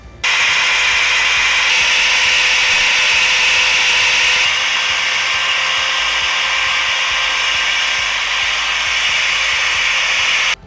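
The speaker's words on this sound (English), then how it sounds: "the nice thing about the mag drill is you can actually drill horizontally on a project" A magnetic drill boring horizontally into a metal project in a workshop, a loud steady whining motor drone with a high hiss that starts abruptly, runs continuously for about ten seconds with a slight shift partway, then cuts off.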